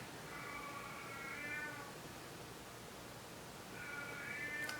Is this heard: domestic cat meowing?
yes